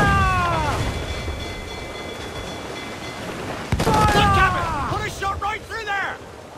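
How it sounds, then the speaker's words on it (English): Heavy naval cannon fire from the Queen Anne's Revenge in Assassin's Creed Black Flag, a booming burst of blasts with rumbling tails, mixed with gliding swept game tones and other battle noise. "So the Queen Anne's Revenge had burst fire."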